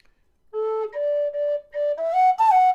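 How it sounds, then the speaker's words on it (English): A short tune on a D tin whistle climbing to the second-octave A, with clear, bright, sustained notes played one after another, the last ones higher and breathier, and no talk. "Now you also have to play up to the second octave A on your whistle."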